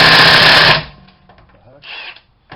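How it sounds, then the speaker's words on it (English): A cordless impact wrench whirs loudly for under a second while removing wheel nuts from a 2018 Chevrolet Malibu, then stops, followed by faint handling clatter and a short mechanical burst. "we're going to do is just zip this wheel off real quick"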